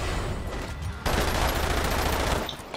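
Dense gunfire in Umbrella Corps, a multiplayer Biohazard shooter: a sustained, loud fusillade of rapid shots that swells sharply about a third of the way in, then drops back near the end.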